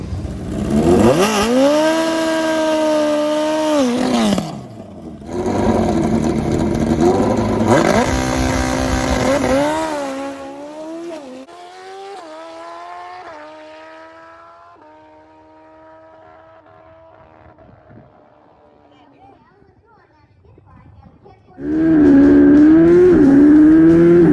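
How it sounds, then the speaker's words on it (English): A mini pit bike billed as the world's fastest revs hard on a track, its high-pitched engine climbing and dropping through loud bursts, easing to a lower drone, then roaring back up loudly at the end. "That's the fastest pit bike in the world."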